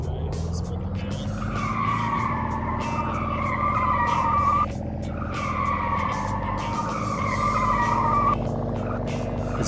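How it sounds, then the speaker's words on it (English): A car drifts and skids in the Edgerun video game, with a revving engine drone under repeated, wavering tire squeals that rise and fall in long sweeps, loud and close. "Let's actually drift."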